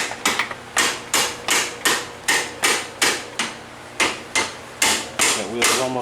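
Hammer tapping a wheel bolt out of a Honda Magna motorcycle, about a dozen sharp metallic strikes at a steady, deliberate pace, close and crisp, each with a short ringing decay.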